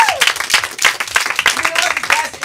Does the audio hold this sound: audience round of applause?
yes